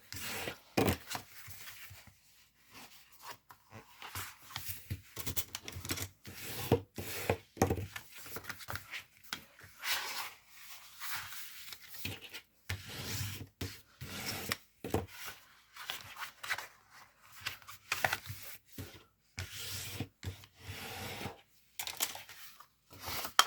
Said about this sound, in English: Let me bring in a bone folder so we can make some hard creases on this.